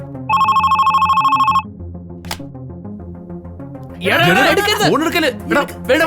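A telephone rings in a burst of rapid trilling electronic rings lasting over a second, loud and close. Background music plays throughout, and people talk after a pause.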